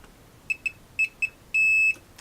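Multimeter continuity beeps while probing a trace on a drop-damaged motherboard: four short, clear electronic beeps followed by one longer sustained tone, close and alone over a quiet background.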